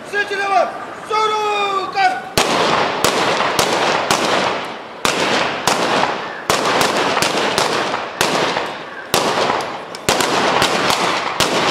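Ceremonial gun salute at a Republic Day parade: a string of sharp, loud rifle volleys cracks out at irregular intervals, each with a short echo, after a brief commanding voice at the start.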